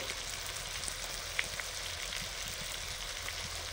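Potatoes fry with spices for a cabbage curry, giving a soft, even sizzle with faint scattered crackles throughout, fairly quiet and steady.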